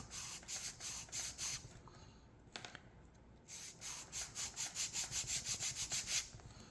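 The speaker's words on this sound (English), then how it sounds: "I want to sand the top of them flat." Wooden model boat parts for a Norwegian sailing pram are sanded flat by hand, making rhythmic back-and-forth rasping strokes, close and soft, with a short pause midway.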